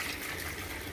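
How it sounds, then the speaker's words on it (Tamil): Water pours from a glass into a tamarind mixture during cooking, a soft, steady gush heard briefly and close with no talking. "இப்போ இதில் கொஞ்சம் தண்ணி ஊற்றிக்கலாம்."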